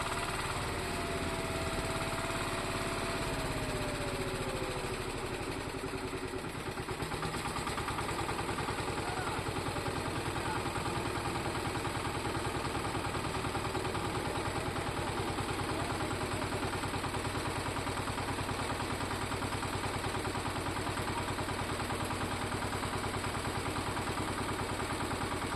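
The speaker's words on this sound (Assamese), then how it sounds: "এতিয়া ট্ৰেক্টৰ ষ্টাৰ্ট দিছে" A tractor engine runs for rice threshing at a home farm, a constant mechanical drone that shifts and settles into a steady running hum after a few seconds, continuing loud and unbroken throughout.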